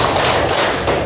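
A group of schoolchildren claps together in a classroom rhythm game, a short run of dense, loud hand claps close by.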